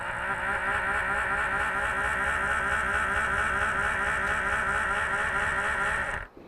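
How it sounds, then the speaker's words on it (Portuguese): A small Arduino-driven motor runs at reduced power with a steady, buzzing whir and a constant tone, then cuts off abruptly at the end. "Vocês podem notar que o motor ele gira com menos intensidade."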